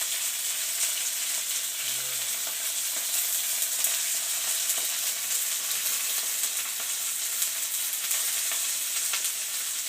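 Greens fry in olive oil in two pans, a steady, even sizzle with soft crackle continuing throughout, close and moderately loud with no talking.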